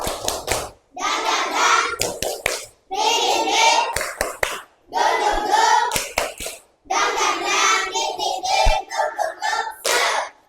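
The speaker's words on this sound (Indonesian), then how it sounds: "Tepuk semangat!" Classroom of children doing a rhythmic spirit clap, bursts of patterned hand claps mixed with chanting voices, loud and close, in several phrases separated by short pauses.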